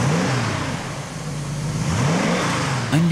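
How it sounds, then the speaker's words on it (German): A Brabus-tuned Mercedes C126 coupé engine revs in repeated bursts, each rise and fall of pitch close and strong over a steady rumble, ending on a sharp blip. "Fauchen kann der Brabus damit heute noch."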